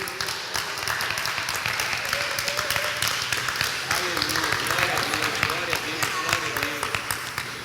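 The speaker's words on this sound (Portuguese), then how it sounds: "Pode aplaudir a palavra de Deus mesmo." Church congregation applauding during a sermon: loud, continuous clapping with crisp individual claps, while voices shout and sing along over it.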